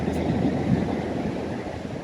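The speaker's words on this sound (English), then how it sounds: "I want to ride one of those waves." Ocean surf breaks on a beach along a coastal walking route, giving a loud, continuous washing roar with wind buffeting the microphone and no pause between waves.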